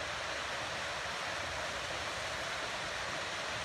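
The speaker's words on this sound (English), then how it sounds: "we have finally found a view of Aira waterfall" Aira Force waterfall in the Lake District gives a steady, dense roar of falling water, a continuous broadband rush with no pauses and no voices.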